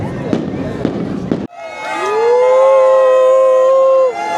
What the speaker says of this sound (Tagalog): wala pang 12 pero may fireworks na